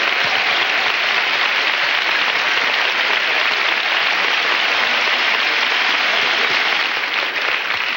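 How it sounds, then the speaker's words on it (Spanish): A theatre audience gives a long standing ovation as a tribute to a departed singer, the dense, steady clapping filling the hall at full strength for the whole stretch with no pause. "el aplauso de todos nosotros, pero de pie"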